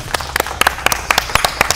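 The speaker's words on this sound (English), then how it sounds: "So, give a round of applause." A small group of people clapping briefly for a guest at a basketball dunking session, a quick, uneven burst of close hand claps with no voices.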